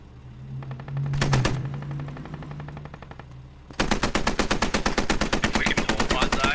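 Machine gun fire in the Squad video game: an early short burst over a low engine-like hum, then a sustained rapid, loud stream of rounds fills the second half.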